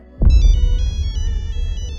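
A mobile phone ringtone starts abruptly and loudly after a brief thump, then plays a repeating electronic melody of bright, evenly spaced tones close to the listener.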